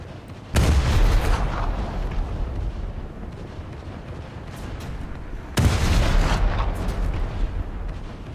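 Naval artillery in a warship video game fires two heavy booming salvos, one near the start and another a few seconds later, each loud blast followed by a long rumbling decay.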